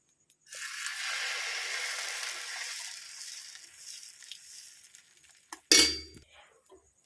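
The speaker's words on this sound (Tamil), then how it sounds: "இப்போ தோசை குத்திக்கலாம்." Multigrain dosa batter spreads across a hot griddle with a soft, airy sizzle that swells and slowly fades, followed by a sharp metallic clink near the end.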